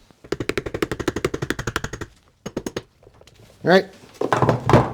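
A screwdriver pounds on a Triumph TR4 gearbox part in a fast run of about fifteen sharp metallic hammer blows, then a few more after a pause, followed by a short spoken remark and clattering metal.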